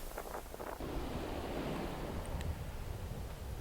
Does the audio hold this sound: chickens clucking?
no